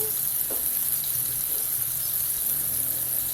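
Ground spice paste being sautéed in a pan while making Padang-style jackfruit gulai, a steady close sizzle with faint stirring scrapes and no talking.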